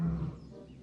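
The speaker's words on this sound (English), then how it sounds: "He hadn't gone very far when he heard an angry animal roaring." An angry lion's roar is used as a sound effect in a read-along story: one low, rumbling growl that swells briefly at the start and then fades into a dim tail, with no voices over it.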